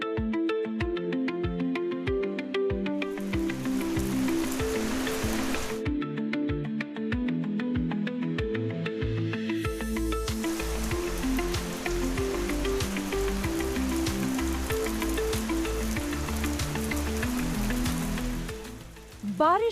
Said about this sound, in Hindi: बद्रीनाथ धाम में एक बार फिर मौसम ने करवट ली और बादल जमकर बरसे